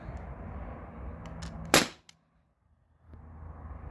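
A single sharp crack from a T4E HDP50 Gen 2 CO2 pistol run on a tank with an MCS adapter, fired at cans; a brief rustle precedes it and near silence follows.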